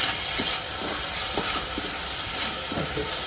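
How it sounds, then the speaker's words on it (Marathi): Onion and prawn masala sizzles with a continuous loud hiss as it is sautéed in a pan, with a few soft stirring knocks beneath the steady frying. "आता हे आपल्याला छान परतवून घ्यायचं आहे"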